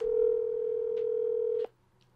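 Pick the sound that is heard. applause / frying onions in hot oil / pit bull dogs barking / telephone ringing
telephone ringing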